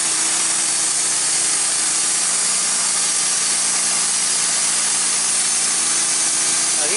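A Wood-Mizer LT15 sawmill cuts through a bent log, giving a loud, steady rasping whine that holds unbroken for the whole stretch, with no voices.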